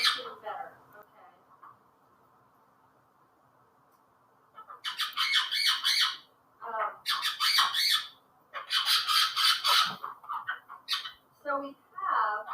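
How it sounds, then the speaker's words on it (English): Loud, shrill squawking from a pet parrot and an Indian ringneck comes in repeated harsh bursts indoors, with a long quiet stretch before the calls resume in several raucous clusters. "So the birds that you hear, we have a parrot. She's the very noisy one. And then an Indian ringneck, who also is noisy."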